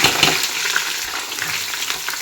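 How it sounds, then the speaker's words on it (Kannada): Onions and green chillies sizzle steadily in hot oil with biryani spices, a dense, continuous frying hiss close up, with faint stirring clatter throughout. "ಇವಾಗ ಇದಕ್ಕೆ ಈರುಳ್ಳಿ ಮತ್ತು ಮೆಣಸಿನ್ಕಾಯಿ ಆ್ಯಡ್ ಮಾಡ್ತಾ ಇದ್ದೀನಿ."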